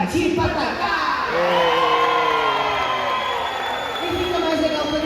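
A children's audience at a Patati Patatá show cheers and shouts together, a swelling crowd roar with high excited voices that rises, holds and fades.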